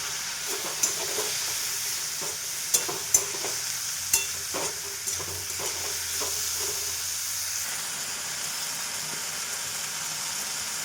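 Spice paste of chili powder, turmeric and cumin with a little water cooking in a pan, a soft steady sizzle and hiss broken by occasional clinks and scrapes of stirring.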